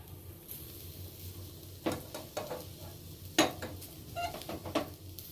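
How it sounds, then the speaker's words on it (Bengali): Fried greens (saag) being transferred from a pan into a bowl, a few soft scrapes and sharp clinks of a utensil against metal over a quiet kitchen background, no talking. "এই বাটিটাতে আমি তুলে নিচ্ছি শাকটা"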